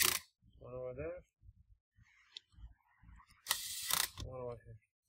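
An electric screwdriver with lowered torque drives motherboard screws into an HP 14 laptop. Short ratcheting whirs sit between stretches of close talking, with one brighter burst near the end.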